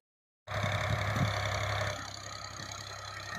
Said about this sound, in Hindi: ट्रैक्टर चलता पिया जी,